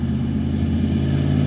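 A 1986 Pontiac car's engine runs steadily at a low idle rumble while the car drives, loud and close for a short stretch with no talking.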